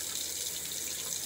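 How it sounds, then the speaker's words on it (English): Running tap water rinsing off a scrub, a steady close hiss of water flowing into a sink, even and fairly quiet throughout with no talking. "Wash this off a little."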